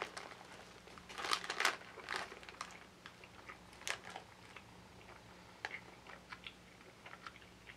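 Someone chewing Sour Big Chewy Nerds candy close to the mic, with soft crunchy bites and sticky mouth sounds in irregular clusters over a quiet background hum.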